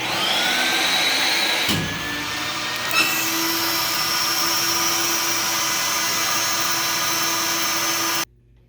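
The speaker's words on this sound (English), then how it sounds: "When it's finished, the vacuum will come on." A skin packer's vacuum motor runs with a loud, steady whine, briefly shifting pitch early on, then cutting off abruptly near the end.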